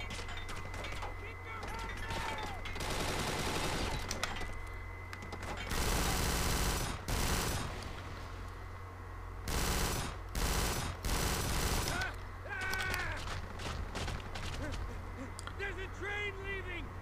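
Machine gun fire in the shooter Kane and Lynch 2: Dog Days, heard as several loud bursts of rapid shots separated by pauses, over constant background game noise, with someone talking at times.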